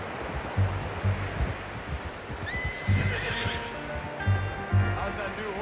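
A horse whinnies in Red Dead Redemption 2, a bright high neigh rising over steady clip-clop hoofbeats and outdoor ambience, with people talking underneath.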